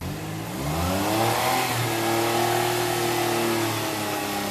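A car engine revs up and holds at raised speed during an air-conditioning gas pressure check at a repair workshop, a steady close mechanical drone with layered harmonics and no talking.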